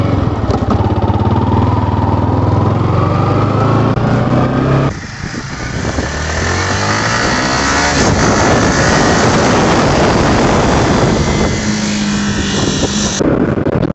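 Yamaha R15M motorcycle with a quick shifter, recorded while riding: a loud, continuous engine drone under heavy wind rush, with a sudden drop in pitch around a gear change and the revs climbing again afterward.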